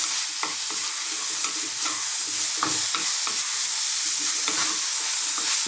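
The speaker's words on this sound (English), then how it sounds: "keep this moving as if you were making a kind of Chinese stir fry" Potatoes and mushrooms stir-fry with coriander, chilli and turmeric powders in a pan, a loud steady sizzle with frequent close scraping strokes of a spatula keeping the food moving.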